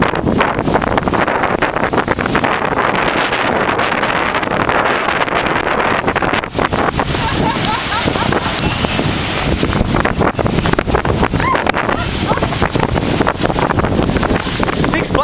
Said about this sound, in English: Big splashes off the shore of Okanagan Lake in Penticton.